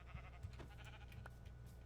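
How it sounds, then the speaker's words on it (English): Sheep bleating in the Minecraft video game, a few short blocky bleats heard close and alone over a steady low game hum. "White sheep."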